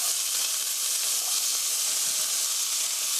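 Beef chop steak fries in a pan, giving a loud, steady, close-up sizzle and hiss that continues unbroken without any talking.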